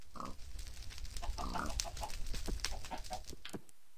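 Minecraft chickens clucking in a busy game scene, several short broken calls scattered over a dense layer of other game noise and animal sounds, fairly loud and close.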